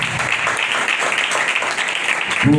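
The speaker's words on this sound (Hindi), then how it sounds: "जोरदार तालियां खुदा के लिए।" Congregation applauding in a church service, dense steady clapping from many hands filling the room, holding at an even level before a voice breaks in at the very end.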